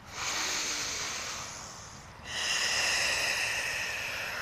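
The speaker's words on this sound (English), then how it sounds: "Take a breath." Deep, slow breathing during a yoga flow, a long airy inhale followed by a steady breathy exhale, close and clear against a quiet room.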